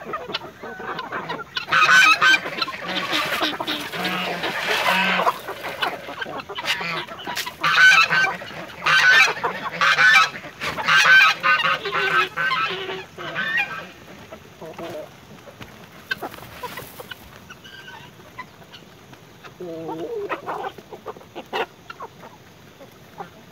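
Backyard chickens and fowl being fed corn on a rural farm, clucking and honking loudly in overlapping bursts for the first half, then thinning to scattered calls, close by.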